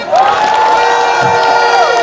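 A crowd at a Malaysian political rally in Selangor cheers loudly, with one long held shout riding over the noise for nearly two seconds.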